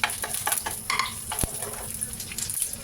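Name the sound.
sautéing garlic in a pan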